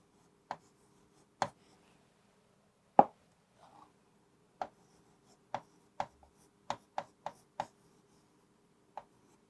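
Pen or marker tapping and stroking in short separate bursts while writing a word in a sixth-grade Bangla math lesson on three-dimensional shapes; about a dozen sharp ticks spaced irregularly, fairly close, with no talk.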